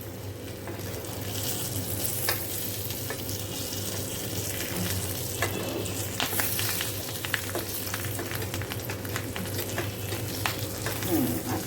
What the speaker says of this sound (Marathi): अशा प्रकारे आपल्याला ही मिरची फ्राय करून घ्यायची आहे सर्व बाजूने.